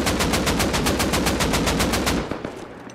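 An AK rifle in the video game Rust fires a loud, rapid, evenly spaced burst of about twenty shots at close range, then stops with a few trailing echoes and clicks.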